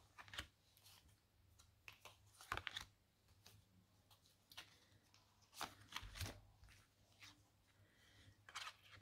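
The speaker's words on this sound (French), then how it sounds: "on va retirer 3 autres cartes pour compléter" Tarot cards are drawn and shuffled up close, with crisp irregular snaps and riffling slides coming in scattered bursts, some sharp and loud, over a quiet low hum.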